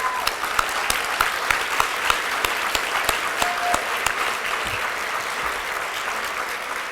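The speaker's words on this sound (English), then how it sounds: "Let's have one more round of applause" Sustained audience applause at an award ceremony, many hands clapping steadily and fairly loud throughout, with a few sharper individual claps standing out.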